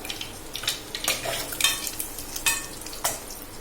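Small onions fry in hot oil in a pan while a spoon stirs them, giving a steady sizzle broken by repeated scraping clinks of the utensil against the pan.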